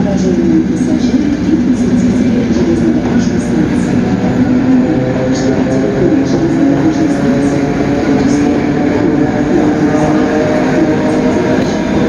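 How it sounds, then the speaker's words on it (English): Suburban electric train in Riga, Latvia, rumbling steadily and continuously up close, with a low droning motor hum and rolling wheel noise, the sound holding level throughout. "just because these trains are so good, here's some extra footage of them"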